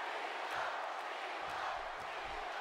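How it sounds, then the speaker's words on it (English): Arena crowd chanting for John Cena at a No Mercy wrestling event in WWE 2K17, a steady loud roar of many voices with rhythmic pulses roughly every half second. "That Cena chant breaking out."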